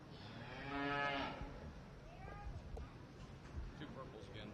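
Breeding heifers at a county fair beef show in Montgomery County give one loud, drawn-out moo near the start, then the show-ring crowd and background chatter carry on.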